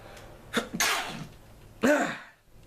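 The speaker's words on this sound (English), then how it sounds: "I'm trying not to sneeze." Two sneezes, each with a sharp burst and breathy trail, sound close up from someone with dust allergies, separated by about a second of quiet.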